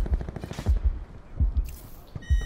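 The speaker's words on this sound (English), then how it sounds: "This guy's got a fucking ray gun, Mark." Rapid bursts of ray gun fire in a battle royale shooter, repeated low punchy shots in quick clusters with brief gaps, fairly loud, with faint voice chat in the background.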